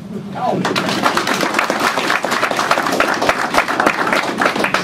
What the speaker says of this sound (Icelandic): Gefið íslenskum kúabændum gott klapp.